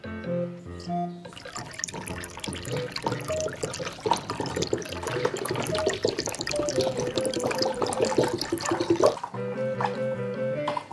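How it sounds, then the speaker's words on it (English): One liter of water pours steadily into a container while mixing a hydroponic nutrient solution at home, a continuous close splashing rush for about eight seconds that starts and stops abruptly between quieter moments. "After that, 1 liter of water."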